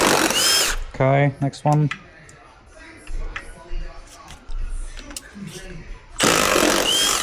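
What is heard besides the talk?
removing bolts from an engine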